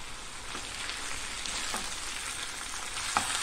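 A wild monsoon vegetable being stirred in a frying pan, with a dense, even sizzle throughout and soft scraping from the spoon, close and steady, no voices.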